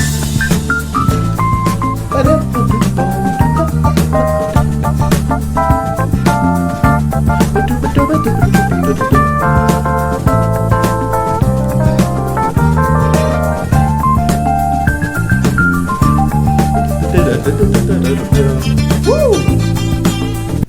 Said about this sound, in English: What you just heard was the piano solo